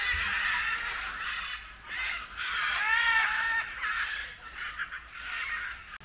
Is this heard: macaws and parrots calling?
yes